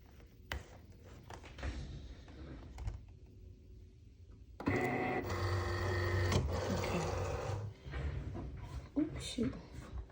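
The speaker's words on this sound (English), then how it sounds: "So now I'm just gonna load it into my Cricut" A Cricut cutting machine loads material and starts running, its motor whirring and clicking steadily under occasional nearby talk, after quieter handling sounds.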